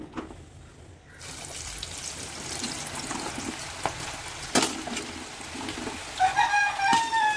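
Jackfruit pieces frying in a pan with oil, a soft crackling sizzle that starts after a second of near silence and stays gentle, broken by a few sharper pops and clinks of a utensil.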